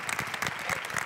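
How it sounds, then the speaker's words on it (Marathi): Audience at a Marathi comedy stage show applauds for the actors in a brief, steady burst of dense clapping. "जोरदार टाळ्या पूजा ठोंबरे यांच्यासाठी"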